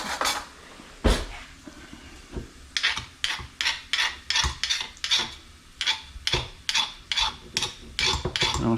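Repeated rasping scrapes of a utensil against a cooking pan holding ginger, coriander and chilies for vegan chana masala, a steady series of close, loud strokes after a couple of isolated knocks.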